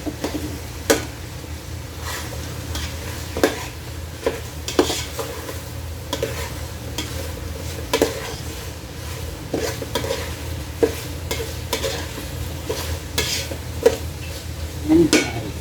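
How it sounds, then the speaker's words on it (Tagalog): Chicken sautéing in a pan with bay leaves for chicken sotanghon: a steady low sizzle runs throughout, broken by regular scrapes and clinks of a utensil stirring against the pan. "Hanggat mag-gisa-gisa. Hanggat mag-golden brown ang chicken."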